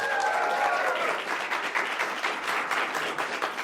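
Loud, dense applause from a large conference audience, steady throughout with no talking over it.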